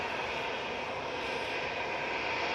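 An EasyJet airliner sits close by on the ground with engines running while it waits for a departure slot, a loud, steady broadband roar that holds without a break.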